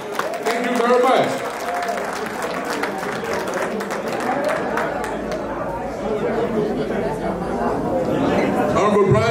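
Applause greets Honorable Brown Jai as he is welcomed onto a stage at a formal ceremony: dense, sustained clapping blended with crowd chatter and voices throughout, swelling slightly near the end.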